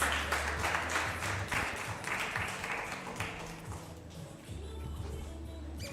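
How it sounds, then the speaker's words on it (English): Audience applause fills an awards ceremony for a World Robot Olympiad robotics competition in Zimbabwe, a dense, steady wash of many hands clapping that carries on throughout at moderate loudness. "Round of applause."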